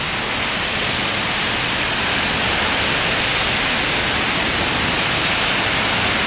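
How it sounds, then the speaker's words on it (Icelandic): Heavy rain pours down in Puerto Rico, a loud, dense, unbroken hiss of falling water with no pauses and no voices over it. "rignir út í eitt hérna í Puerto Rico"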